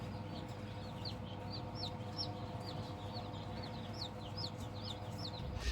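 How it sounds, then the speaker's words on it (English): Newly hatching chicks peep in a new hatchery: many thin, high chirps scatter steadily throughout, fairly close, over a constant low machine hum. "we finally started hearing that sound. The chicks were hatching."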